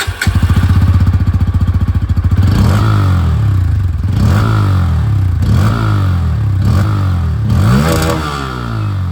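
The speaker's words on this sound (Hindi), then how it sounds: "अब एक बार यहाँ पर जो N160 वो भी सुन लीजिए। यहाँ पर आप लोगों को अंडर बेली एग्जॉस्ट सुनने को मिलेगा।" A Bajaj Pulsar N160 motorcycle's underbelly exhaust, loud and close, idles with a steady thump and then revs up and drops back in about five repeated rising and falling blips.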